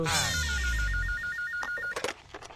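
A telephone rings with a rapid warbling electronic trill that repeats for over a second, then stops, followed by a few soft clicks and rustles.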